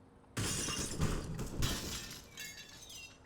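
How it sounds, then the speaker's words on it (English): A glass window shatters loudly in CS:GO on the Inferno map, one sudden crash followed by a second burst of breaking glass and tinkling shards dying away. "you can break the glass as they're jumping up"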